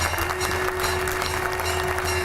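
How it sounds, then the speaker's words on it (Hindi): A TV studio audience applauds a Hindu spiritual leader arriving for an editors' panel show, steady dense clapping under a constant electrical hum, loud and unbroken throughout. "जोरदार तालियां"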